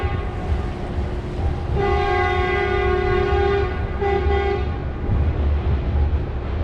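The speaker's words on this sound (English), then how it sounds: "Is a ride taking off?" A steady, loud horn-like tone sounds as a ride starts off, holding for a few seconds over a constant rumbling crowd and machinery background.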